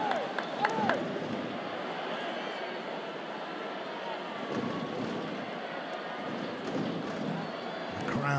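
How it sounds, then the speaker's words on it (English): Rugby stadium crowd during a French Top 14 match between Toulouse and Stade Francais, a steady loud roar of many voices filling the whole stretch with brief swells, with a commentator's voice over it. "The crowd making plenty of noise"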